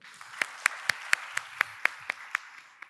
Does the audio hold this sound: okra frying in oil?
no